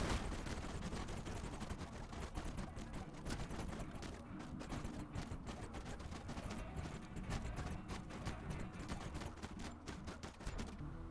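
Rapid clattering bursts from defensive turrets with scattered explosions in the colony game Rimworld, a dense, continuous run of sharp cracks repeating for the whole stretch at fairly close range.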